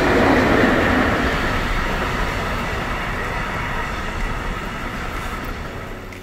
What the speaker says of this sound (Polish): Polskie pociągi!